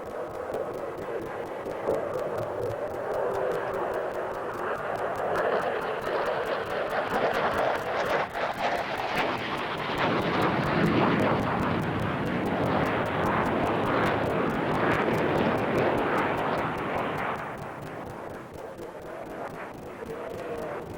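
A Sukhoi Su-27 Flanker fighter jet flies past at the Farnborough airshow, its engine roar swelling to a loud sustained rush that peaks midway and then fades away.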